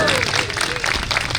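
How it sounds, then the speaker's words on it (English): A crowd at an evening holiday parade and tree lighting breaks into dense, brief clapping and cheering. "Can we also have a round of applause for Cheryl Huiot"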